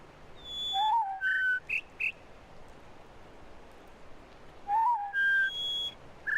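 Bird calls from the video game The Witness: short clear whistled notes in two bursts separated by a quiet stretch, over faint background hiss.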